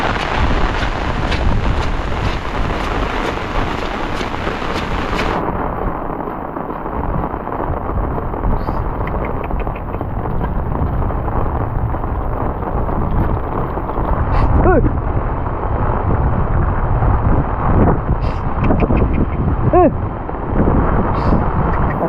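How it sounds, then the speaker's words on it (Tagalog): Strong typhoon wind roars steadily and loudly across the microphone for the whole stretch, buffeting it with dense rumbling gusts. "Hangin."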